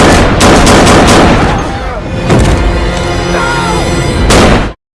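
Gunfire from a Rambo film scene as he kills a band of pirates, with dense bursts of shots and booming blasts over a loud, sustained film soundtrack, ending abruptly.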